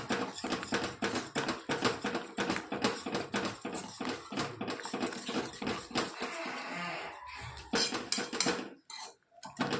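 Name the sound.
mixing vegetables and spices in a pan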